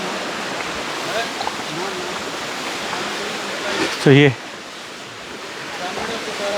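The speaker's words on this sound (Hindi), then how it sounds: "तो ये वो नदी है" Steady broadband rush of a forest river flowing deep in the Abujhmarh jungle, continuous and close, with a voice breaking in briefly over the water.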